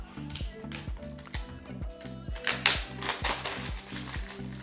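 A cutter slices through the plastic cover on a Samsung Galaxy S20 Ultra phone box, making a quick series of sharp, crisp clicks and snaps in an uneven rhythm, close and fairly loud with no talking.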